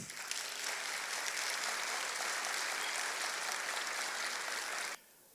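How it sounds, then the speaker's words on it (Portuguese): An audience at a conference talk breaks into applause as the next speaker is called to the stage, dense and steady clapping for about five seconds before cutting off abruptly. "Uma salva de palmas"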